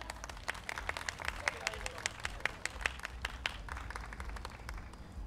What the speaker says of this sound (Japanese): 皆さん大きな拍手でお願いいたします